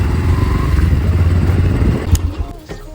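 A motorcycle rides along a rain-soaked road toward the Kanai walkway in Payyanur, its engine droning steadily up close before easing off near the end, with some talk mixed in.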